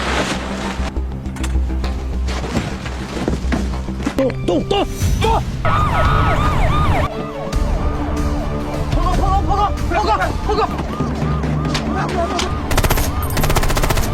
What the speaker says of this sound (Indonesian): Mereka terlibat baku tembak yang cukup menegangkan